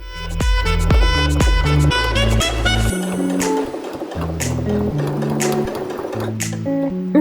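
Sewing machine stitching bias binding onto an apron, a loud, steady rapid whirring run with rhythmic needle thumps, pausing briefly and then continuing at shifting speeds, close up and alone.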